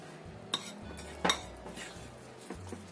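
A spoon scrapes and taps against a bowl while a sauce of cornstarch and soy sauce is stirred. The clinks come in a few short, close bursts over a quiet background.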